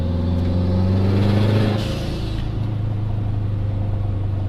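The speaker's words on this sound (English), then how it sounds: "So you notice the external wastegate initially flutters because early on it's being controlled by the electronic boost controller." A Subaru with an external wastegate rumbles loudly and close under boost while driving, its engine note steady and low. A brief rise in noise near the middle could be the wastegate fluttering.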